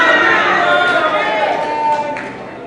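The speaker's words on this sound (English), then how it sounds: "Please, a round of applause for her." Crowd at a citizen assembly applauding and cheering for a panelist, a dense, steady wash of clapping and voices that fades slightly toward the end.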